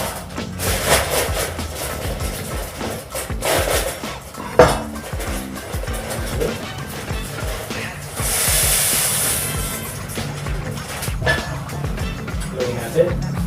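Elbow macaroni tips into boiling chicken broth in a pot, with clattering of a pot and utensils, stirring scrapes, and a stretch of hissing steam from the boil in the middle of the clip.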